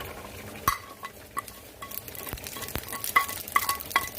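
Ingredients frying separately in a spoonful of hot ghee for mutton shahi korma, a steady soft sizzle broken by several sharp clinks of a spoon or spatula against the pan, close by with no talking.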